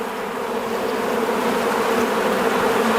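Honey bees buzz steadily and loudly at close range while a beehive is opened for inspection after a cold Texas winter, with no voices.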